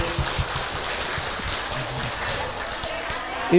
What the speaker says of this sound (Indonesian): Boleh tepuk tangan dulu dong untuk Ibu